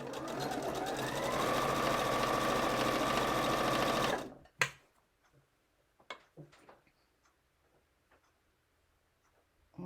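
A sewing machine stitches a farmhouse Christmas cross stitch pillow, running in a steady loud whir for about four seconds, then stopping abruptly, followed by a few scattered clicks and taps.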